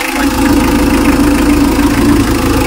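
A customized Mitsubishi L300 FB van's diesel engine idles with a loud, close, continuous low rumble and a fine steady clatter, with no voices over it.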